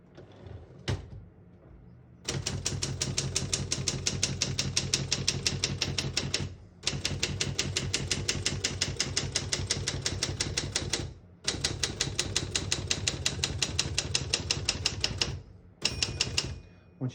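Rapid, steady keystrokes on a 1977 Adler Universal 200 manual portable typewriter clatter in long bursts, broken by brief pauses, with a carriage return and a small margin bell near the end.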